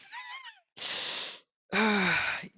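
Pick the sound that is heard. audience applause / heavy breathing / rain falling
heavy breathing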